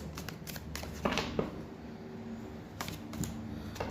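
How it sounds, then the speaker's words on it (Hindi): A tarot card is pulled from the deck with quiet papery slides and soft flicks, a couple of brighter snaps near the middle, faint and close in a quiet room. "एक कार्ड और लूँगी मैं"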